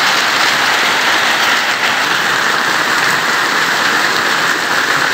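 Rain falls on a run-down hut in a durian orchard in Sarawak, a loud, close, unbroken hiss of drops on the roof that holds steady throughout, with no voices.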